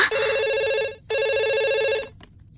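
A telephone rings loudly and close up in a comedy film scene, two long electronic ring bursts separated by a brief gap, with nothing else heard.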